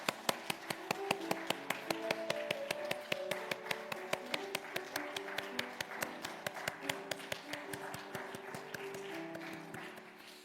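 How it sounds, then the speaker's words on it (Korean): A church congregation claps in rhythm, a steady run of sharp even hand claps for about ten seconds, fairly close and gradually tapering, with no talk over it. "하나님께 영광의 박수 올려드리겠습니다."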